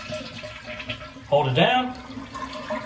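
A toilet is flushed with its water supply shut off, giving a short gurgling rush of draining water mid-clip under a voice, with no refill afterward.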